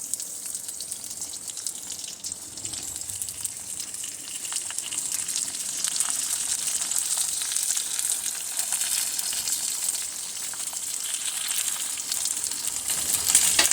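Okra (bhindi) pieces laid one by one in a pan fry with a steady, bright sizzle that runs continuously and grows slightly louder toward the end, with no talking.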